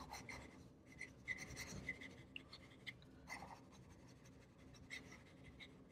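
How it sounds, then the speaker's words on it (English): Fountain pen with an italic nib writing fast on paper, giving faint, close scratchy strokes in quick irregular bursts, quiet and without talk. "And if we do some fast writing"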